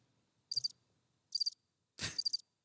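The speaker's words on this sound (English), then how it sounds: "The crickets are making a noise." Crickets chirp in three short, close bursts of rapid pulsing trills separated by pauses, with a brief soft thump under the last one.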